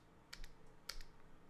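Fingers tap numbers into a calculator keypad while solving a polynomial equation, two quick pairs of small plastic clicks heard close and faint against a quiet room.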